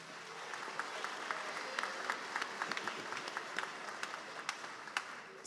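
Continuous audience clapping at the Cleveland School of the Arts 2024 commencement as district officials are recognized, a dense, even patter heard from across the hall.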